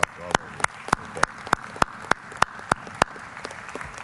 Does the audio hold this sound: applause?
yes